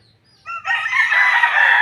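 A fighting rooster on a farm lets out a single loud crow close by, starting with a short clipped note and swelling into a long, strained cry that holds to the end.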